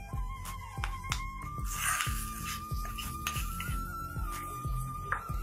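Food is mixed in a pot with the stove switched off, a spoon clinking and scraping against the metal in a steady run of knocks and clatters close by, with no talk.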